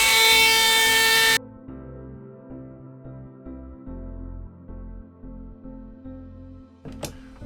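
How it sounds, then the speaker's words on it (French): A power drill bores a hole in an airsoft sniper rifle part: a loud, gritty whine for just over a second, then a lower, uneven motor hum that pulses as the bit works through. "Donc c'est parti pour le perçage."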